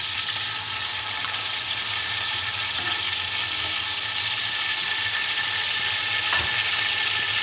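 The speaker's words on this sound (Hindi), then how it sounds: "अब इस स्टेज पे मैं 2 टेबलस्पून जो है लहसुन ये मैं डालूँगी और 2 टेबलस्पून ही मैं अदरक डालूँगी।" Garlic and ginger sizzling in hot oil in a pan for mutton korma, a steady close frying hiss with faint stirring clicks, no talk.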